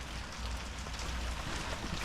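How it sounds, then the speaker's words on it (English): Rain falls steadily outside during a Toyota Camry Solara repair, making a soft, even, continuous patter with no one speaking. "It's raining in here."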